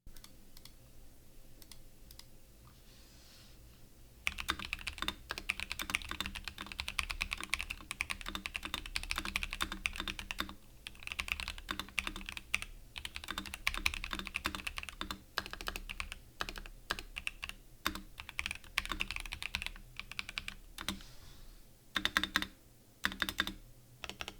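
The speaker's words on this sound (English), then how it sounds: "This keyboard is actually really easy to write with" Steady typing on an Asus ROG Azoth mechanical keyboard, a dense run of crisp clicks close by, starting softly and continuing at a fast, uneven pace.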